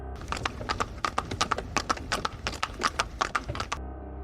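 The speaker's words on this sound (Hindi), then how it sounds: "रॉड्रिक्स घोड़ा गाड़ी में चढ़ गया और घोड़ा गाड़ी आगे की तरफ बढ़ा दी" Hooves of a horse pulling a carriage clip-clop in a brisk, irregular run of sharp close knocks for about four seconds, then stop abruptly.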